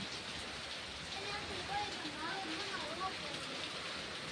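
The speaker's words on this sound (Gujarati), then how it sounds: "જોરદાર આવે છે વરસાદ ને પવન" Heavy rain and wind over a village, a continuous dense wash of rain hitting surfaces, with quiet voices talking faintly beneath it.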